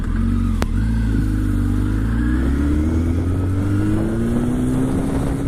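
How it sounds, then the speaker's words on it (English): A motorcycle engine roars loud and close, with the throttle dumped in first gear without clutch for a power-up wheelie, the pitch rising steadily as it revs and torques up. "so I'll do a power up wheelie in first. So that's no clutch, that's just, you know, dumping that throttle and it torquing itself up there."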